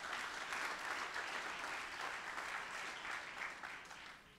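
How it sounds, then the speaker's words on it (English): Audience applause at a tech center fall summit, a steady wash of clapping from a crowd that holds for several seconds and fades slightly near the end, with no talk over it. "Please, a round of applause for all of them"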